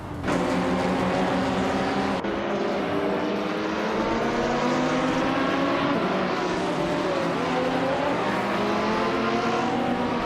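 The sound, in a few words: GT4 and WTC race cars racing on track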